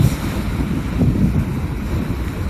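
Ocean waves wash in a steady broadband roar along a coast where the water is only moderately rough. Wind buffets the microphone throughout, with a slight swell of surf near the middle and no voices.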